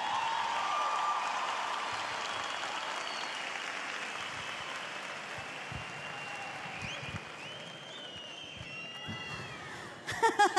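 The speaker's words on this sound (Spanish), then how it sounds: "la Quinta Vergara aplaude nuevamente a Dani Chiqui Aguayo" Big open-air festival crowd at the Quinta Vergara amphitheatre in Viña del Mar applauding a comedian: a sustained, hissing wash of clapping that slowly fades over several seconds before a few louder sounds break in at the very end.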